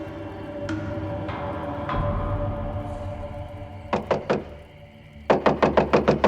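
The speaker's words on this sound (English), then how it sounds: "I awoke the next morning to a violent knocking" Someone knocks violently on a wooden door: a few spaced, softer raps first, then a quick burst of three hard knocks, and finally a rapid, loud volley of six pounding blows.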